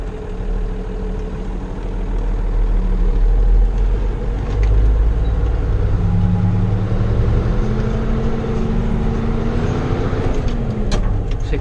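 A Fiatagri 160-90 Turbo DT tractor pulls away in first gear on a road, its diesel engine a loud, steady low drone that climbs in pitch as it gathers speed, with no talking.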